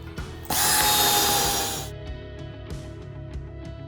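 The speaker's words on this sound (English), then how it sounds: "just match those up and then get your screws installed" A power drill driving screws through a podcast table leg plate, a short whirring burst lasting under two seconds that winds down, followed by several faint clicks and taps.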